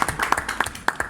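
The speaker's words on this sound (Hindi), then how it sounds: "इन दोनों के लिए ताली बजाइए" Audience clapping for two people at a seminar-style gathering, heard as a short burst of scattered, uneven claps with a few sharper individual hits, fairly close and lasting about a second.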